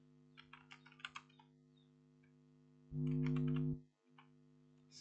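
Light computer keyboard typing comes as a quick burst of soft clicks, then a steady low electronic hum starts and stops partway through, followed by a few more isolated key taps.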